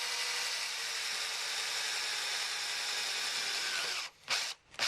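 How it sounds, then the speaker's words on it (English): Electric drill with a nut driver bit fitting rear light lamp guards on a Land Rover Freelander 2, a loud steady whir running near and continuous, then cutting out in short bursts at the end. "So you've got the little nut driver on the end of the electric drill here."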